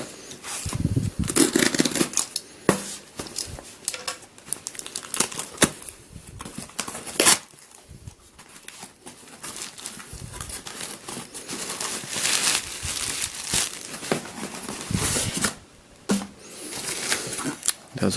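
Parcel holding a limited-edition pink Dayan Gem III puzzle being opened by hand: steady crinkling, tearing and rustling of packaging with scattered sharp clicks and snaps, close and fairly loud throughout.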